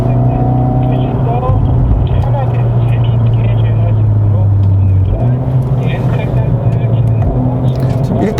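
A Hyundai Veloster N with a dual-clutch transmission drives with a loud, steady engine drone that shifts pitch as it downshifts, with a person talking over it throughout.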